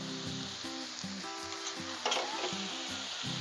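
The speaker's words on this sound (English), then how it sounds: "let it just sizzle and cook" Teriyaki chicken bites sizzle steadily on a hot Blackstone griddle, a constant close hiss with a brief scraping stir, while music plays in the background.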